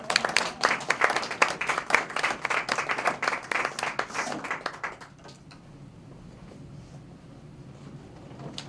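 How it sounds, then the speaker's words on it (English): A person claps their hands in quick, loud, continuous clapping close by for about five seconds, then it stops and only quiet room noise remains. "I would clap my hands for you."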